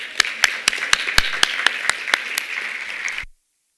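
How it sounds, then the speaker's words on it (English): Applause at an elementary school spelling bee, loud, evenly spaced claps standing out over a softer crowd clap, ending abruptly after about three seconds. "let's give them a big round of applause"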